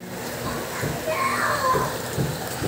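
Heavy, steady rain falls as a dense continuous hiss with scattered splashes, and faint voices can be heard beneath it.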